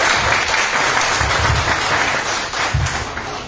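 A crowd gives loud, sustained applause at a 2022 news-organised gathering honouring a local legislator, continuous clapping filling the space with low murmurs underneath.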